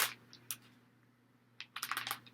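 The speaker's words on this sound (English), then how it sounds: "As I open this bag again, and it's loud." A plastic bag is opened up close, giving a short crinkle, then a pause, then a burst of louder rustling crackles over a faint steady hum.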